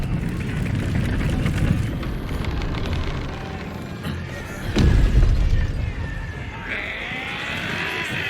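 A cannon fires during a battle in Baldur's Gate 3, one heavy booming blast rising out of a rumbling roar of fighting and clatter, with a hissing tail afterward.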